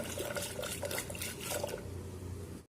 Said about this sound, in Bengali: এখন একটু এই ঘুটনি দিয়ে আমি ঘুটে নেব